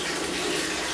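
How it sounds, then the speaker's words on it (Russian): Water pours steadily in a summer outdoor shower, a continuous close hiss and splash with no break for the whole second and no voices. "я сейчас пошел в летний душ мыться"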